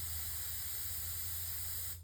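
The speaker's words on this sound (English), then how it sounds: "let me get my airbrush cleaned out" An airbrush blasting air while being cleaned out gives a steady, close hiss with a low hum underneath, then cuts off abruptly at the end.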